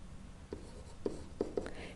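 A pen taps and strokes on a tablet or board during a math lesson on limits, with several quiet, brief clicks and scratches over faint background hiss.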